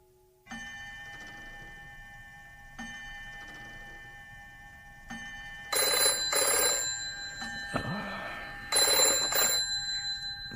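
Old-style telephone bell ringing in an audio drama: a faint clock ticking at first, then several loud metallic ring bursts with short pauses between them, close and clear.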